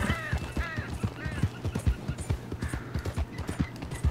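Steady clip-clop of horse hooves at a trot in Red Dead Redemption 2, rhythmic and fairly close, with a few brief neighing or call-like sounds near the start.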